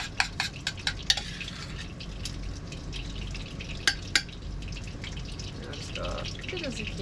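Hawaiian fish fries in a pan with a soft, steady sizzle, punctuated by sharp clinks and taps of utensils, with faint kitchen clatter throughout and no clear talking.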